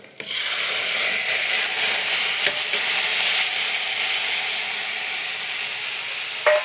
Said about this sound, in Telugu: టమాటాలు కూడా యాడ్ చేసుకొని బాగా కలుపుకోవాలి